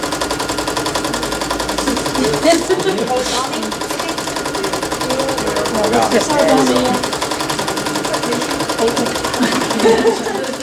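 An embroidery machine stitching a cross stitch runs with a loud, rapid, steady needle chatter throughout, close up, while people talk over it in a room at a convention.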